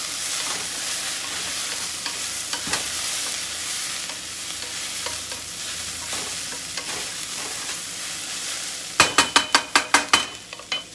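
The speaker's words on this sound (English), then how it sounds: "so that's my pot telling me that it's" Lentils frying and beginning to stick in a pot on a stovetop, a continuous close hiss and sizzle with occasional scrapes, ending in a quick series of sharp rhythmic taps or bubbling pops.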